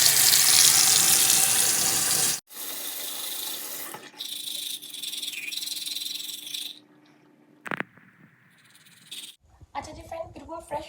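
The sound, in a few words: washing face and brushing teeth at running sink tap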